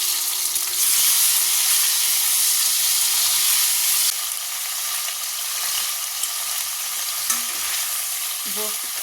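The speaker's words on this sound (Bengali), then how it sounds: "ওর মধ্যে ব্রোকলিটাও একটুখানি ভেজে নেবো" Broccoli fries in plenty of hot oil in a pan, making a loud, steady sizzle and hiss that eases partway through, with a few faint utensil clinks and no talk.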